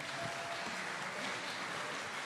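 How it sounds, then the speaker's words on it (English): Audience at a music awards evening claps steadily, a diffuse, moderately quiet wash of applause that fills the room without pause. "Round of applause, please."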